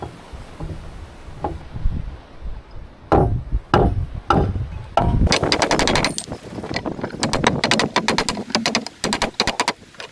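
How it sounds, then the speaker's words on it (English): A hammer knocks pieces onto a wooden climbing frame repeatedly, starting with a few spaced knocks and then speeding into rapid, dense pounding close by. "I'm just going to knock them on with the hammer and get them secured"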